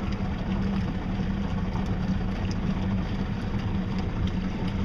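A motorboat engine with its propeller removed runs steadily at second speed, a loud continuous low drone holding even throughout with no talk.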